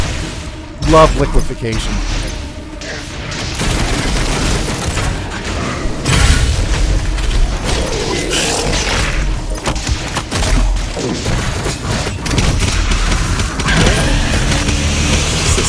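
Grenade blasts and heavy combat in DOOM Eternal: booming explosions and dense mechanical gunfire crash continuously under loud game music, while someone talks over the action.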